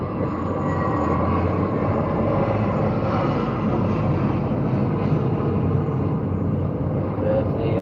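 An Airbus A320 takes off at Heathrow Airport, its jet engines producing a broad, sustained roar that holds steady for several seconds before cutting off abruptly.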